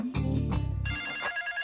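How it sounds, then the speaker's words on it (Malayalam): A phone rings in a Malayalam film scene, with a brief electronic trill sounding close and clear, followed by a second higher-pitched ring burst. "വിചാരിച്ച ഉടനെ ഫോൺ ചെയ്തു"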